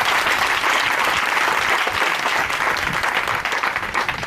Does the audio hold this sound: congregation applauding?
yes